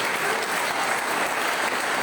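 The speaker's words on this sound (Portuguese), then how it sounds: "Você pode aplaudir o Senhor?" A church congregation at a Baptist evening service applauds in a dense, sustained burst of many hands, loud and steady throughout.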